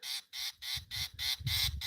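Harsh, grating alarm notes from a fiscal shrike aimed at a mongoose, six or seven close calls in quick succession with faint low scuffling underneath.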